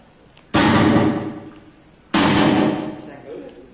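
Two sharp, loud vocal bursts mimicking pistol shots, each cut off abruptly and then trailing away, separated by a short pause.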